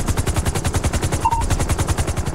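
Rapid automatic gunfire in a GTA roleplay game rattles out as a steady, loud stream of closely spaced shots, with no one talking over it.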